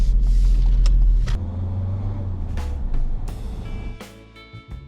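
A manual car pulls away from a hill junction, its engine rumbling loud and close before the revs drop and the car moves off, with a few mechanical clicks and knocks toward the end.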